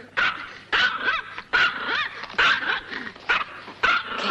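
A dog barks in five loud, sharp bursts at a steady rhythm, close by, with no talking over it.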